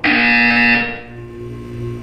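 A loud electronic buzzer tone sounds once in a Portal 2 test chamber, a bright sustained buzz lasting under a second before cutting off and leaving a faint hum.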